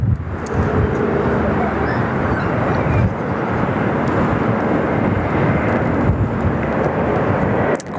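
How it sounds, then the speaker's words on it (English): A Qantas airliner departs Sydney Airport with a loud, sustained rumbling jet roar that fills the whole stretch, broad and steady, while voices talk over it. "Qantas just departing, off they go."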